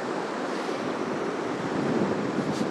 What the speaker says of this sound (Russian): некоторые волны достают